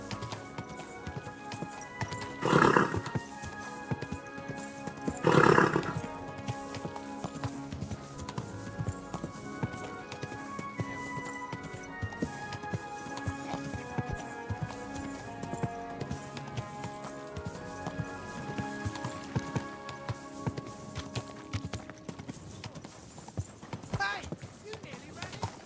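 In the Kingdom Come Deliverance 2 video game, a horse arrives with rhythmic clip-clopping hooves that slow to a stop, along with two loud bursts of snorting and neighing. Game music plays underneath, with a whinny near the end.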